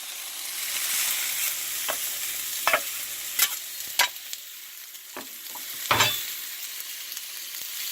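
Potatoes and half a white onion fry in a pan for a breakfast frittata, giving a continuous close sizzle punctuated by several sharp scraping knocks as they are stirred. No one talks.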